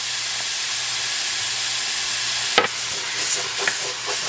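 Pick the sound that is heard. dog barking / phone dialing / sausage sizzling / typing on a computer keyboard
sausage sizzling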